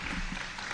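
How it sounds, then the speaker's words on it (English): Audience applause for Florida State Troopers at a public event where Governor Ron DeSantis speaks on illegal immigration, a steady wash of clapping filling the short moment at moderate level. "Let's give them a round of applause."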